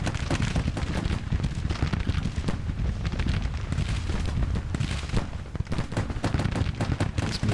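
Dense, continuous battle din of Gatling guns and artillery in the Civil War strategy game Grand Tactician, with rapid crackling gunfire over heavy booming low rumble, loud and sustained throughout with no speech.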